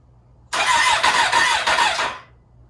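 A Honda CB350-based low-budget chopper motorcycle engine cranks over with a loud, steady whirring churn lasting under two seconds, then cuts off.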